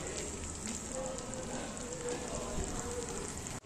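Masala spice paste for shahi butter paneer frying in a pan, a steady dense sizzle that holds evenly throughout, loud and close with no talk over it.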